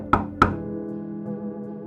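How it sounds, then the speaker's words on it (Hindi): Two sharp knocks on a hotel room door, close and distinct, followed by a low sustained musical drone with no voices. "तो तीसरी बार अभय ने दरवाजा खटखटाया"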